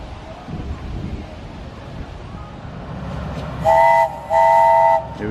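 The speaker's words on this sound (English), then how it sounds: "I can hear the train going round" A small park train at Wicksteed Park rumbles along its track, then two loud whistle blasts sound near the end, the second one longer.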